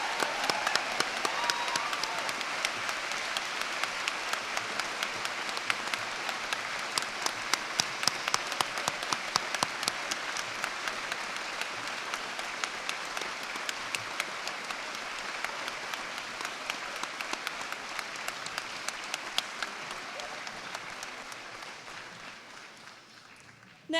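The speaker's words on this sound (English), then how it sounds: "Big round of applause for all our Bachelor of Education graduates today." A graduation ceremony audience applauds graduates, a dense sustained roll of many hands clapping in a hall that carries on for over twenty seconds before tapering off.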